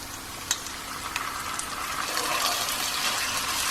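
Ginger garlic paste hits a pan of frying chicken liver, giving a steady broad hiss and sizzle that holds evenly throughout, with a soft clink early on.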